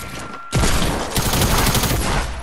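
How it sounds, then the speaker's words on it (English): Hand cannon gunfire in the Fortnite video game, a loud dense burst of rapid shots starting abruptly after a brief quiet gap and continuing without a break, with no talking over it. "I'm using a hand cannon"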